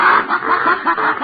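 Men imitate chickens clucking in an old radio drama, with a nasal, honking rhythmic clucking repeated in quick pulses, loud and close, in a brief burst.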